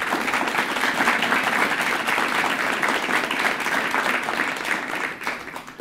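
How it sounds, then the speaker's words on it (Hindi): Enthusiastic audience applause at a family court counseling and welfare society event, dense steady clapping from many people that keeps going throughout before tapering slightly at the end. "थोड़ी जोरदार तालियां।"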